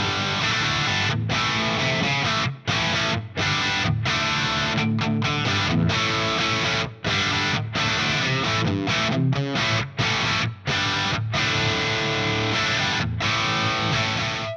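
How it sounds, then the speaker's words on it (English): Crunchy, distorted electric guitar from a PRS DGT SE in humbucker mode through a Fractal Brit 800 amp model with plate reverb plays chords and riffs continuously, with brief pauses between phrases and a full, roomy tone. "I want you to hear this crunchy Brit 800 with the Crunch Dynacab"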